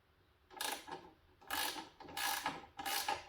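A ratchet tightening an edger blade back down on its reverse-threaded bolt, four short bursts of clicking strokes, close and fairly quiet, with no talk.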